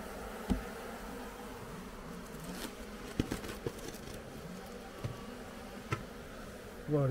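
Caucasian honey bees buzz faintly around an open hive that has brood disease while being readied for winter, a soft steady hum broken by a few light knocks and taps.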